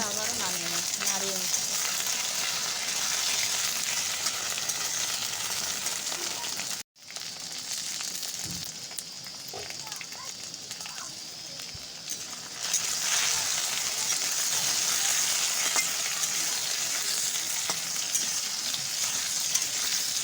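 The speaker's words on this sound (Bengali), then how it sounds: "কচুগুলো দিয়েও এবার আমি নাড়িয়ে নেব" Steady sizzling of taro, potato and eggplant frying in a pan, with scraping and stirring noises throughout and a brief break partway through.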